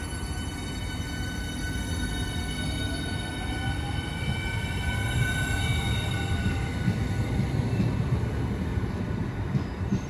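A Southeastern Class 395 high-speed train departs Ashford International, its steady rolling rumble and rising motor whine holding loud and close for the whole stretch, with faint wheel squeal over the rail noise.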